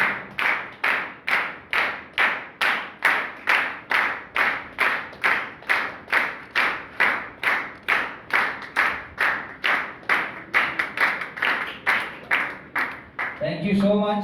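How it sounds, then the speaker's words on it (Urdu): Rhythmic unison clapping at a Mother's Day church service, loud and evenly paced at about two claps per second, breaking into looser applause at the end. "زوردار تالیوں میں."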